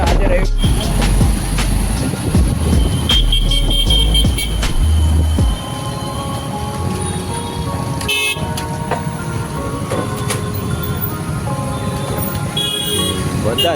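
Motorbike riding along a road on a group trip to Bamna hill, engine and road noise rumbling steadily throughout with passing traffic and occasional horn toots nearby.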